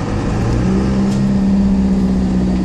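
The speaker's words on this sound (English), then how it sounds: "Accelerate really hard in second gear." A Ford F150 with a swapped 4BT Cummins diesel accelerates hard in second gear off-road on grass, its steady loud engine drone holding throughout with a rising tone and no voices.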